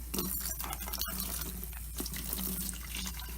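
Water trickles from a tap into a mug holding a scoop of protein powder, a short gurgling pour with splashy drips over a low steady hum, close and moderately loud.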